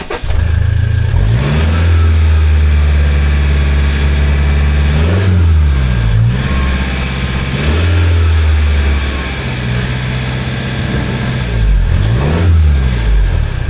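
A Toyota 79 Series 2.8-litre four-cylinder diesel with a three-and-a-half-inch Torqit exhaust runs loudly and close, its engine rising and falling through several repeated revs over a steady idle.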